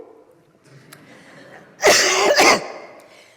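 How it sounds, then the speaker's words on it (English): One harsh, close cough made of two quick bursts rises sharply out of quiet room noise and then fades away. "I have the world's worst cough."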